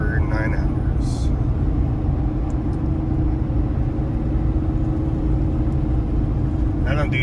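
Steady low car interior road noise while driving on a highway, a constant loud rumble throughout with brief faint sounds above it.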